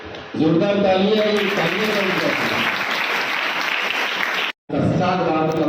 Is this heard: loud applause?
yes